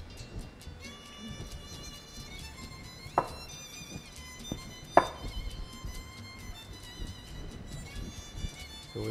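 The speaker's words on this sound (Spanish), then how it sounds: "la vamos a cortar así, el cuarto de cebolla morada" A knife chopping a quarter of a red onion on a board: a few scattered, sharp cuts spaced seconds apart, set against a quiet, tonal background hum.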